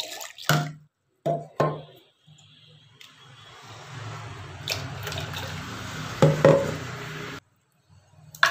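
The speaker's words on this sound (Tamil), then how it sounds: "வேக வச்ச தண்ணிக்குள்ளே இது ஊற்றிக்கோங்க" A thin, strained soup liquid of ground vegetables, coriander leaves and curry leaves is poured into boiled water. A few short splashes come first, followed by a steady close pour of several seconds that stops abruptly.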